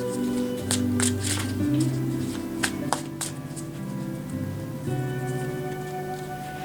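Tarot cards riffle and shuffle close by in a steady patter of papery flicks, with a few sharp taps as cards drop, all over a soft bed of background music.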